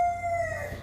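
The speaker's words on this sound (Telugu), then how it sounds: "ఇంతలో కుకురుకో అనే శబ్దం వినిపిస్తుంది." A rooster crows once, close and fairly loud, with a single sustained call that holds steady and then fades over under a second.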